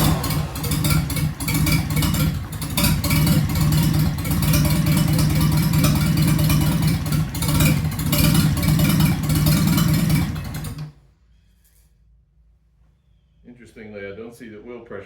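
A Farmall Cub low boy tractor engine runs loud and steady for about ten seconds, its low rumble holding even, then cuts off abruptly into near silence before a voice begins speaking.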